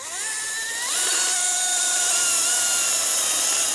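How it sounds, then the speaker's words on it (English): A chainsaw cutting through a rhino's keratin horn during a veterinary dehorning in South Africa, a loud steady whine with rising and sliding engine pitch, close and continuous. "Mike, the head vet, is behind the chainsaw."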